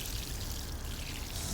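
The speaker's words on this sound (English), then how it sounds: "So I'm going to give them a little bit of water and we will be all done." Water is poured over a newly planted DIY raised garden planter, a short, soft, steady splashing stream heard close and alone.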